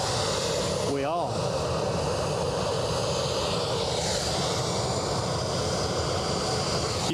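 A jet airliner departing for Prague produces a loud, steady roar that fills the whole span, with a brief rising whine early on, and a voice speaks over the noise.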